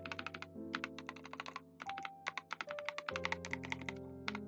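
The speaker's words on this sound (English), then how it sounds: "I enjoy like hearing some ASMR keyboard typing sounds." Fast, steady typing on a self-built mechanical keyboard, crisp clacky keystrokes with a few heavier thocks from larger keys, close and clear with no talking.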